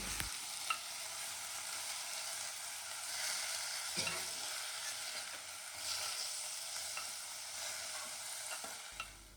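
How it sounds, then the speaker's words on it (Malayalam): Drumstick leaves being stirred and wilted in a hot pan with coconut, a steady soft sizzle with occasional scraping clicks of the spoon, quiet and close, no talking. "ഇത് നന്നായിട്ടൊന്നങ്ങ് ഇളക്കി കൊടുത്തിട്ട് അതൊന്നങ്ങ് വാട്ടിയെടുക്കുന്നുണ്ട്."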